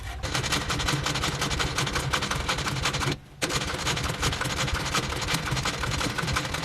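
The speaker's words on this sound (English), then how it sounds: "I'm done sewing the front of the bag." Sewing machine stitching the front of a tote bag, running in a steady continuous mechanical whir with one brief pause midway, close and loud.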